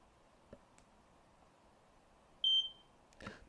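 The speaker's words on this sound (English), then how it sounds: "fire alarm." A smoke or fire alarm gives a single sharp, high electronic chirp, fairly near, amid a quiet room with a few faint clicks before and a soft thump after.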